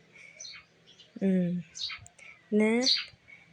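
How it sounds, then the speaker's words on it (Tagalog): A noisy bird calling outdoors near a makeup session: two loud, harsh, squawking calls about a second apart, with fainter chirps and tweets in between over a quiet background. "ang ibon man, ingi-ingi na ingi naman eh. Busit naman na ibon na ito. Pagkaingay man"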